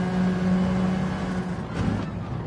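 Alfa Romeo 4C race cars in a one-make sprint trophy race braking into a hairpin, with a steady, loud engine drone and tonal hum that dips slightly as the pack slows, no talk.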